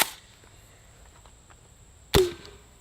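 An X Products Can Cannon fires a can with one sharp, loud blast near the two-second mark, breaking a quiet stretch with a faint steady hum and then trailing into a brief decaying ring.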